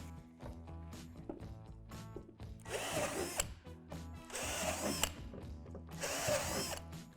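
A power drill bores three divots into the top of a plastic playground slide, with three loud bursts of whining, grinding drilling separated by quieter handling noise, close up and without speech.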